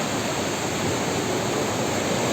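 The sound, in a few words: Bamni Falls waterfall, Purulia, West Bengal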